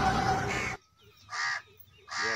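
A white crow gives two clear, harsh caws, close and loud with pauses between them, following a brief burst of someone speaking at the start.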